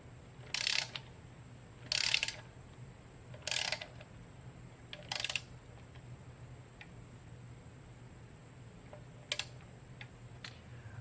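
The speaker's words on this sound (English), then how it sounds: "So I'm going to torque this down to 15 foot-pounds." Quiet clicks of a torque wrench ratchet tightening intake plenum bolts on an aluminum plate, four short bursts roughly every 1.5 seconds, then a pause and one final click, over a faint steady hum.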